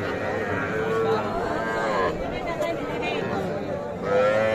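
Calves and cattle at a crowded livestock market, with repeated moos rising over a dense background of people chattering nearby.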